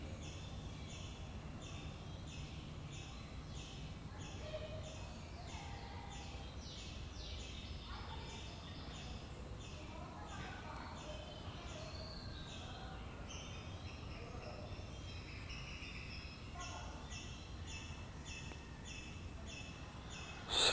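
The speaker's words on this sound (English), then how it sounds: "Allow yourself to listen to the sounds of the birds in the morning." Birds call and chirp steadily against a soft, constant outdoor hiss, with repeated high calls that sound a little distant.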